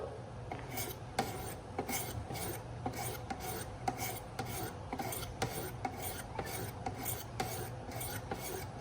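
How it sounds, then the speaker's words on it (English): Steady back-and-forth rasping of a steel knife blade on a Wicked Edge guided sharpening system at around 400 grit, close and continuous, in a regular rhythm of strokes with no talking. "this is the Wicked Edge knife sharpening system"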